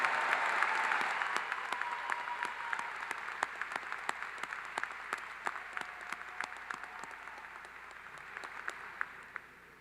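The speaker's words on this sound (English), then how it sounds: "How about another round of applause for our newest master's degree recipients?" Audience at a Clemson University fall graduation ceremony applauds new master's degree recipients, a broad steady wash of clapping filling the hall and slowly tapering off over about ten seconds, with scattered sharper claps standing out.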